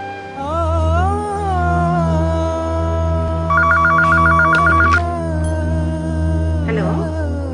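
A telephone rings with a warbling electronic ring burst over a steady background hum and tonal music bed, followed by a short rustle.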